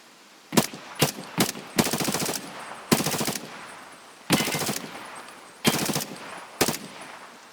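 An NL rifle with a Lantac Dragon muzzle device fires in Escape from Tarkov: sharp single shots and short automatic bursts, loud and close, separated by brief silences.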